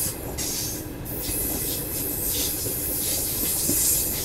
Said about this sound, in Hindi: वो देखो एक मालगाड़ी जा रही है ना